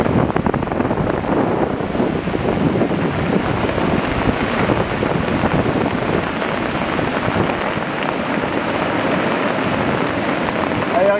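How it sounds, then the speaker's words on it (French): Heavy rain and hail drumming hard and continuously during a storm at Le Claret, dense pattering with low wind rumble on the microphone. "on a vraiment beaucoup de pluie et de grêle"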